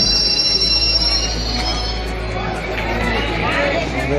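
A Rampurhat–Bardhaman passenger train stands at a station platform, its wheels giving off high metallic squeals over a low rumble, with voices chattering nearby.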